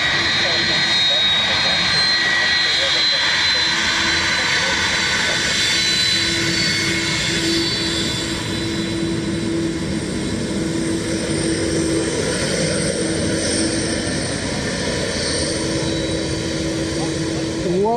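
A jet aircraft passes at Dublin Airport, a loud, sustained roar that stays close and steady for the whole stretch, with voices faintly present beneath it.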